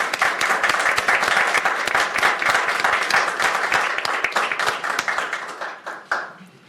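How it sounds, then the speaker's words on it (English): Audience at a special county council meeting applauding, a steady round of hand claps at moderate loudness lasting several seconds before tapering off. "Can we give them a round of applause"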